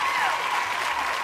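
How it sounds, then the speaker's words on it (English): A crowd applause sound effect gives a dense burst of clapping with cheering mixed in, loud and steady across the short stretch. "Everybody, let's give a welcome cheer to Archie."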